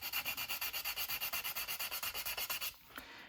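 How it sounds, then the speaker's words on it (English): A coarse sanding stick rubs back and forth over hardened superglue and talcum powder filler in fast, even strokes, about seven per second, close and crisp, stopping abruptly near the end. "So now we can start sanding. First with a rough sanding stick,"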